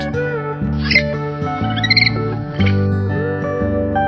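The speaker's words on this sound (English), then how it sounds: "Parrot." A parrot gives a few short, sharp squawks, near and loud, over a steady musical backing.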